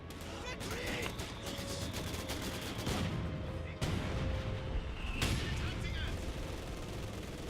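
10.5 howitzer artillery firing in Company of Heroes 2: repeated sharp booms and crackling battle gunfire over a dense, continuous wash of noise, with game voices speaking throughout.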